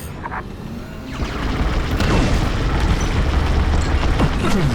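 A destroyed dish blows up in the Star Wars Squadrons space combat game: a loud, rumbling explosion swells after the first second and keeps roaring and crackling steadily to the end, with no voices.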